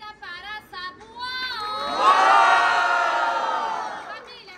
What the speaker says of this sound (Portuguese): Muito barulho à minha esquerda para Sabuão.